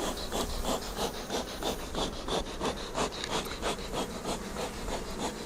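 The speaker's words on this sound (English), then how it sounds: "these bees are grumpy today already" Grumpy honey bees at an open hive being smoked, a dense, fluttering buzz that pulses steadily throughout, close and fairly quiet, with no talking.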